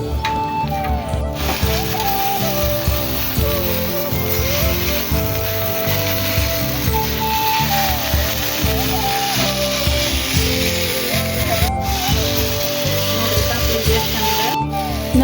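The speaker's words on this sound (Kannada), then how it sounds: "ಇವಾಗ ಸ್ವಲ್ಪ ಉಪ್ಪು ಹಾಕ್ಬಿಟ್ಟು ಇದನ್ನ ಮತ್ತೆ ಏನು ಮಾಡ್ಬೇಕಂದ್ರೆ ಚೆನ್ನಾಗಿ ಹುರ್ಕೋಬೇಕು ನೋಡ್ರಿ" Pundi (sorrel) leaves with salt roast in a hot pan on a gas stove, a loud, steady sizzle and hiss that runs throughout, with occasional stirring scrapes and sloshing.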